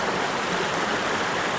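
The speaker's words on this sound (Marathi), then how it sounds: "हा एक बघा मस्त असा ओढा" A forest stream near a waterfall flows in a steady, broad rushing hiss with no breaks or voices.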